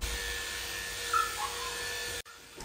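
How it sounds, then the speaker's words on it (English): Electric dog clippers with a 1-inch comb attachment over a 30 blade run through a miniature poodle puppy's coat, a steady close motor hum with a brief change in pitch, then a sharp cut as it stops. "We use a 1-inch comb attachment over a 30 blade to clip the body and skim over his legs."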